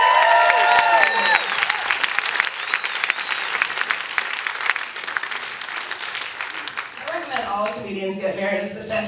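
Loud, dense applause from a comedy club audience in Toronto, with scattered voices at the start and a voice talking over the clapping as it continues toward the end.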